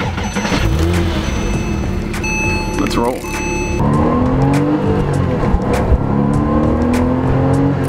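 A 3.8-litre 2007 Porsche Cayman race car engine revs loud and close, rising and falling in pitch, with someone speaking briefly over the roar.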